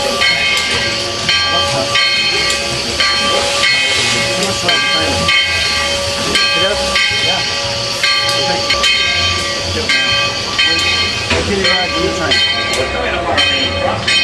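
A loud steam locomotive whistle from the Dollywood Express at the Dollywood theme park sounds close by in long, sustained chord-like blasts with brief breaks, over steady hissing steam and rumbling machinery.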